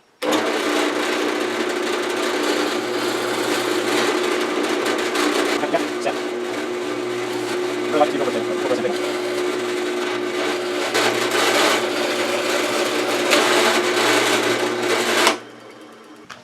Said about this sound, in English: So I proceed to drill the other holes.